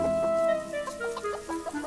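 Hens cluck in a quick run of short, nasal calls, fairly close, at a moderate level over a low background.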